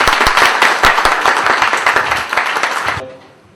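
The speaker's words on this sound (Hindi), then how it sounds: "तो कृपया इन्हें तालियों से।" An audience claps loudly for the actors after a Hindi stage play, with dense close-up clapping that stops abruptly near the end and leaves brief quiet room tone.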